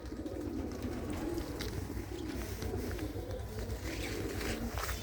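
Ratte and dabbe breed pigeons cooing steadily in a loft, soft low throaty coos repeating over a constant background hum, fairly quiet and continuous with no speech.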